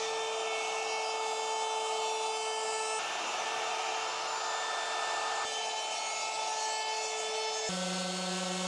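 A sanding machine working over wooden surfaces in a workshop, a loud continuous motor whine with shifting pitch and a few abrupt changes as the tool is repositioned, alone without speech.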